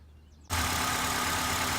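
A 2004 Honda Accord 2.4-liter four-cylinder engine idling, a steady broadband hum that starts abruptly after a brief quiet moment and holds evenly, near and with no talk.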